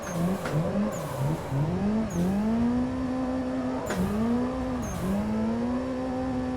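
Simulated race car drifting wide along walls with a handbrake, engine revving and bouncing continuously at close range, with repeated pitch swoops and short bursts of scraping or tire noise.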